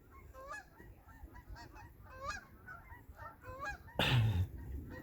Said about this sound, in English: oh, look, the geese, they're coming into the field tonight.